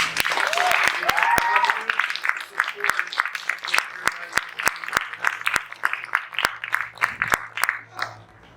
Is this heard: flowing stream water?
no